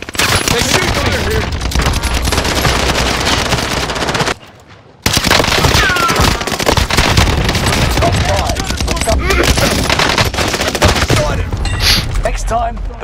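Dense, continuous automatic gunfire in an action video game, loud and sustained with rapid bursts and a brief drop near the middle, running almost the full length without speech.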